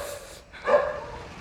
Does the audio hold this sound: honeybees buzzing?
no